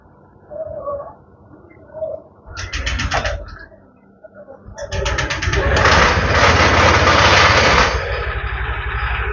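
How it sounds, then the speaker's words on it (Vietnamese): After some brief talk, a Honda Air Blade 125 scooter with a suspected high fuel consumption problem is started in a repair shop. A short burst of cranking is followed by the engine catching and running loudly and steadily nearby. "Rồi, cho nổ máy đi."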